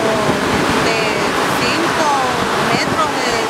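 Ocean waves from a swell surge at Puerto Madero roar as a loud, continuous wash of surf, with faint voices and scattered higher sounds mixed in over the steady rush.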